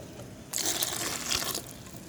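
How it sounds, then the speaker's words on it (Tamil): A short stretch of liquid compost water pouring, a soft splashing trickle that starts abruptly and fades after about a second, fairly quiet. "இந்த கவுடங் வாட்டரை இதில் ஊற்றிக்கிறேன்."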